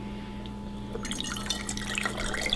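Homemade ginger beer is poured into bottles during bottling, a soft trickle and splashing of liquid that starts about a second in and continues over a low steady background hum, with no talk.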